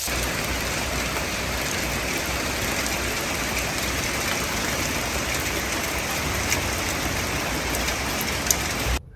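Steady rain falls on outdoor surfaces at 10 a.m., a dense, even patter that holds at constant loudness with a few sharper drops near the end, and no one talks.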